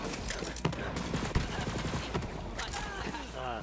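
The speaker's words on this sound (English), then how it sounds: "There is a turret down here." Rapid turret gunfire in the video game Borderlands 3, with dense bursts of shots and clattering impacts continuing throughout, loud and close, mixed with game effects and some voices.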